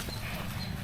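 Bullock hooves clip-clop in a quick, uneven patter over a steady outdoor rumble, fairly close by, at a cattle fair.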